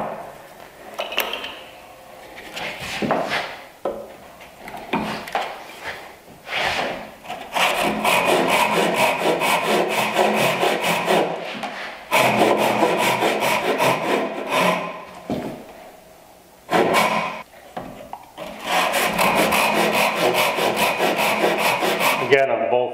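A hand saw cuts the waste from the middle of a wooden bridle joint in long back-and-forth strokes, close and steady, in several runs separated by short pauses.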